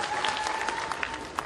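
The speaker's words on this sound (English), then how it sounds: "Clap for yourselves" An audience in Kisii claps for themselves, a dense, steady patter of many hands at fairly close range, running without a break and with no clear voices over it.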